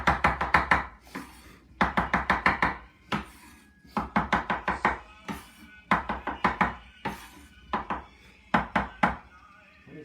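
Knife chopping food on a cutting board in a home kitchen, fast rhythmic bursts of sharp close knocks separated by short pauses, with occasional faint voices underneath.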